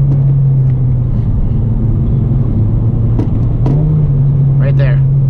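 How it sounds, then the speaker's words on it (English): A car engine idling then given a quick throttle blip for rev matching, a steady low drone that briefly rises in pitch, close and loud, with a voice talking over it. "you could learn how to blip that throttle fast."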